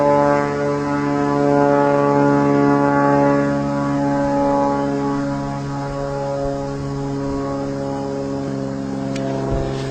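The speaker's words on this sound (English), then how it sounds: "Plane coming back." A propeller plane drones steadily overhead, its engine tone holding strong and even for the whole stretch before easing slightly, with no voices.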